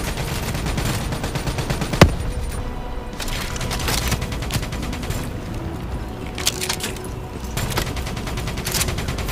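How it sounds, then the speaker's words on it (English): Continuous gunfire from a full arsenal of weapons in the video game Call of Duty: Black Ops 3 on Xbox One, with dense rapid bursts, a sharp loud blast near two seconds, and sustained chaotic shooting throughout. "I'm just firing everything I got in my arsenal."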